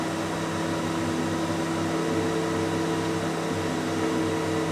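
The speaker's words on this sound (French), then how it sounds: "Il y a les deux ventilos qui tournent." Two cooling fans inside an EcoFlow Delta portable power station whir in a steady, even hum with no changes in pitch or level, close by and uninterrupted, with no one talking.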